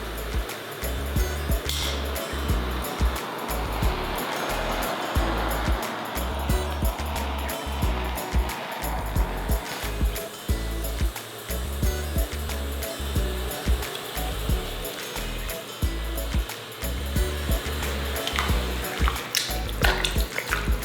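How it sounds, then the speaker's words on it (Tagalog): Water rolls to a boil in a pot holding pork belly for crispy bagnet, a steady bubbling hiss with a low rhythmic thumping throughout and no talk. "Papabayaan ko lang muna na kumulo yung tubig."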